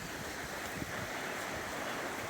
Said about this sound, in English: You can listen the music of the water flowing.